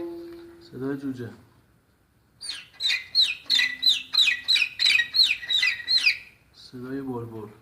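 A violin imitates a chick with a run of about a dozen quick, high, evenly spaced chirps, with low bowed notes before and after.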